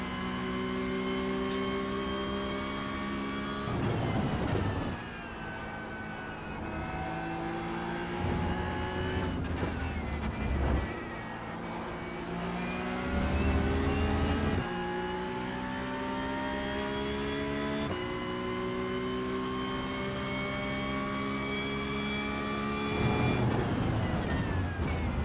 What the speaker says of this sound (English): Good old Porsche car.